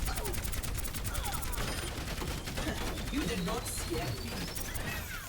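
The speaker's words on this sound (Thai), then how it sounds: "เดี๋ยวจะลองยิงให้ปืนร้อนเลยครับแล้วเรามาดูกันว่าปืนเวลาร้อนแล้วมันจะรีโหลดยังไงนะครับ" Orisa's heavy gun in Overwatch 2 fires in a fast, unbroken stream of loud rapid shots until it overheats, with rattling mechanical texture and some game effects layered over the steady barrage.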